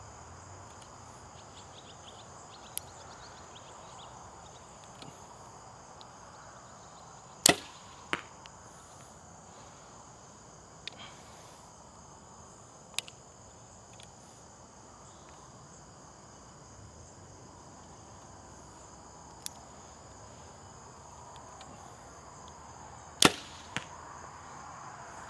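Grizzlystik TDT arrows loosed from a bow give a few sharp, quiet snaps and thuds spaced far apart, set against a faint outdoor background of chirping insects.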